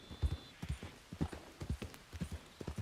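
Horse hooves in the video game Red Dead Redemption 2, a steady rhythmic clip-clop of a trotting horse, close and clear, no talking.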